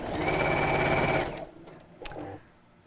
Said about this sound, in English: So I'm going to use the same seam allowance, which is about half an inch or a centimetre, and sew all the way down.